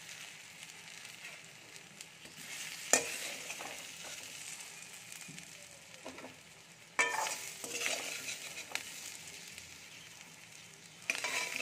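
Potatoes fry in oil in a wok, giving a steady close sizzle broken by repeated stirring scrapes and sharp utensil knocks against the pan. The sizzling continues throughout, with no clear talk.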